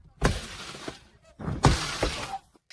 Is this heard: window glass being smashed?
yes